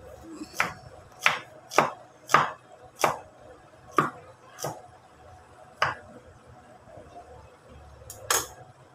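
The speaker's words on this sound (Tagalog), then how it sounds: "Iniwa ko na po yung bawang, sibuyas." A knife chopping garlic and onion on a board for chicken tinola, about a dozen sharp, close taps in an uneven rhythm against a quiet room.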